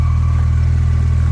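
A base-model Porsche 911 fitted with a Soul Performance exhaust, catless headers and a stage 2 tune holds a steady, loud low engine drone at idle or light revs, close to the microphone, with no voices.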